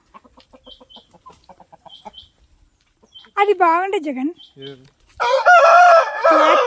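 Chickens cluck softly in short bursts, then loud, close crowing breaks out, with a person speaking briefly among the birds.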